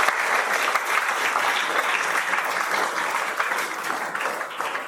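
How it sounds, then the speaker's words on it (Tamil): An audience at a motivational speech for first-year college students claps steadily, a dense, even burst of applause that stays loud and close, then gradually thins out. "ஒரு கைதட்டு."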